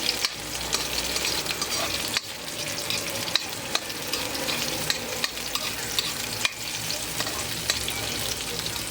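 Onions sautéing in a pan for a pork dish, a dense, steady sizzle close up with occasional clicks and scrapes of stirring throughout.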